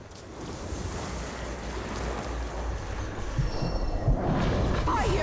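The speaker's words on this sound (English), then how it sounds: "one does not reason with the wind" Wind roars across the landscape in the video game Middle-earth: Shadow of War, a loud, steady rush of gusting noise that swells slightly toward the end.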